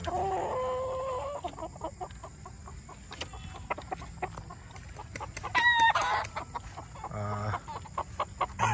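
Gamefowl chickens in a cording and breeding area cluck and call, with a rooster crow breaking through midway, scattered fowl sounds at close to moderate distance over a steady background hum.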